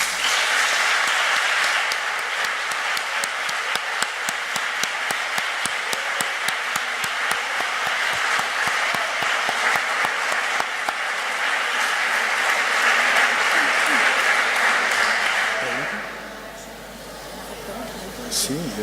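Applause from a conference audience after a talk, steady dense clapping for about fifteen seconds that fades out, with people speaking over it.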